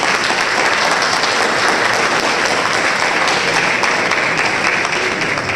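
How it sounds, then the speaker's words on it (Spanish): Dense, steady applause comes from a conference audience welcoming a speaker at a political marketing conference, and it runs without a break throughout. "Un aplauso, por supuesto."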